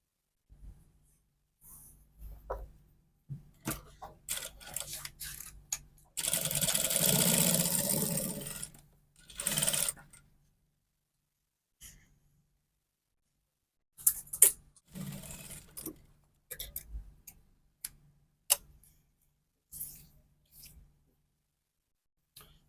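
A sewing machine runs in a short steady burst of about three seconds while stitching a dart on the back of a dress, then a brief second run, surrounded by quiet handling clicks and fabric rustling up close.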